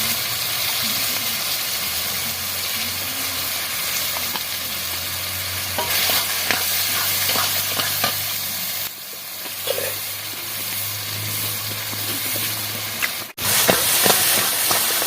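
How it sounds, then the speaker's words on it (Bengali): Pointed gourd frying with turmeric and salt in a pan, a continuous close sizzle and hiss broken by scraping stirs of a spatula, loud and steady, ending with a sharp clatter. "ভালো করে নেড়ে নেব"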